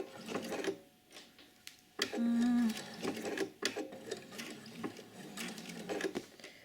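A sewing machine stitches a single welt pocket on a coat in short, close mechanical bursts, with one brief louder run of stitches near the middle and quiet handling between.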